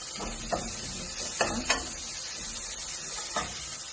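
Tomatoes and two green chillies sauté in a pan with a steady soft sizzle, broken by a few sharp scrapes and stirs of a utensil against the pan; no voices.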